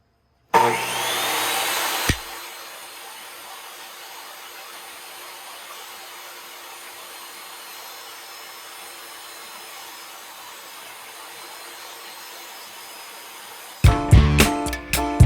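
A power saw ripping a cedar tongue-and-groove board lengthwise, with a loud burst of motor and blade whine at the start, a long steady quieter whirring cut, then sharp clattering hits at the end.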